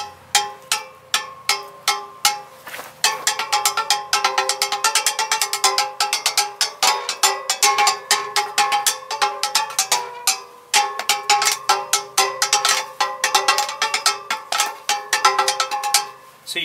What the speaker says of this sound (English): So you can hit each spoke by itself, get some different sounds, or you can kind of scrape it down.